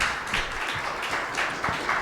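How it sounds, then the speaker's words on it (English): An audience claps steadily at a housing affordability summit, a moderate stretch of applause with uneven peaks of hand claps. "Another round of applause."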